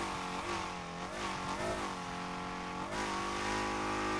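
A drift car's engine revs continuously in the racing game Torque Drift 2, with sweeping harmonic pitch climbing and falling as the throttle is worked, loud and steady with faint tire noise, no talk.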